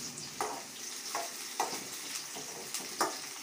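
Chopped onion, slit green chillies and curry leaves sizzle steadily in oil in a pan, with several spoon strokes scraping through at irregular intervals, close and moderately quiet.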